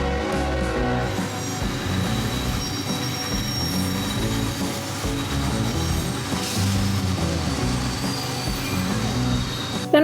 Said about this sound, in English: My only complaint is how loud the train was